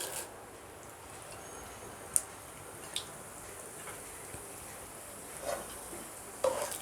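Tempering spices for mango chitranna sizzle faintly in hot oil in a pan, a soft steady hiss broken by a few sharp pops and crackles.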